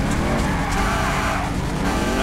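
An Audi RS6 in a GTA race pulls away hard, its engine roaring loud and steady with a continuous tire squeal layered over it and no clear talk.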